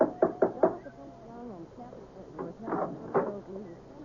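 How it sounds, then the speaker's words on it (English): A big brass knocker on a front door raps four quick times, then footsteps and faint movement follow in a quiet interior. "There was a big brass knocker on the front door."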